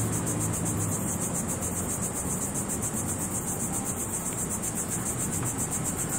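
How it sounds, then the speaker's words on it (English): Crickets chirp at night near Wrightsville Beach by the Atlantic Ocean, a dense, steady pulsing trill that holds throughout over a low background rumble. "those are crickets chirping that you hear"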